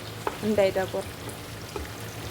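Chicken fries in a pan for a maqluba dish, with a short close sizzle and a few stirring knocks. A brief tonal chirp sits near the start, then a quieter simmer remains.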